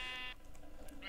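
Sheep bleating in a Minecraft SMP multiplayer game: two drawn-out, buzzy in-game bleats, one at the start and one near the end, separated by a quieter gap with faint background sound.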